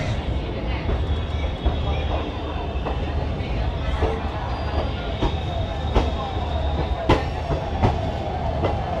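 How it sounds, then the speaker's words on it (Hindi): Vibhuti Express passenger train running on rails past Varanasi Junction in the evening, a steady loud rumble of wheels on track with scattered clicks and metallic squeals throughout, carried close and continuous. "ये लीजिए वाराणसी जंक्शन भी क्रॉस कर गई ट्रेन।"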